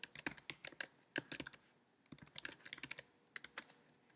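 Keys clatter on a Mac keyboard in quick, irregular bursts of crisp, close taps, with brief pauses between runs of typing and no voices.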